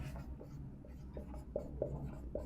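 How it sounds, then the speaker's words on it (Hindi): Pen or marker writing notes on a board during a classroom lecture, a faint scratchy stroke pattern with short repeated taps and squeaks at a steady hand pace, with no talking. "यहां लिख लेंगे बस।"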